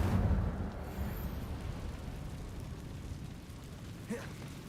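Incendio fire spell cast in Hogwarts Legacy, a loud roaring burst at the start that settles into a sustained low rumble and then fades, with a brief crackling flare near the end.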